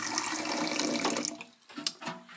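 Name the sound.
water being poured for Turkish coffee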